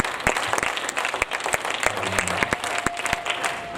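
A church congregation applauding the Lord, a steady patter of many hands clapping with a few louder sharp claps, brief murmured voices and a faint held tone beneath.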